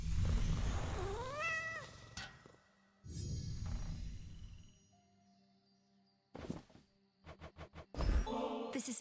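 A cat character meows in the video game Hades 2, a rising and falling cry near 0–2 s, followed by game sound effects and a run of short clicks later on.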